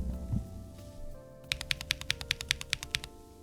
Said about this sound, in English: So you can hear that the N key is very scratchy.